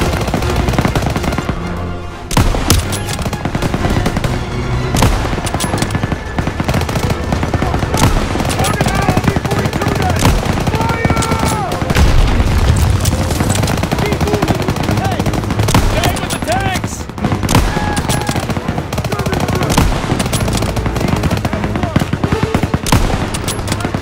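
Dense, continuous German MG42 machine gun fire from a nest in the World War II shooter Call of Duty: WWII, loud and relentless with overlapping bursts and battlefield noise, and shouting voices mixed in.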